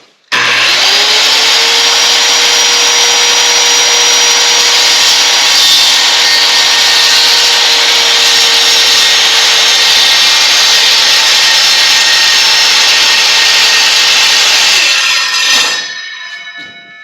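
A power saw cuts through a black walnut live-edge board, a loud, steady high whine with grinding wood friction held for about fifteen seconds before winding down, close with no talk.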